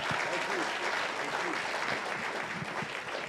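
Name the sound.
applause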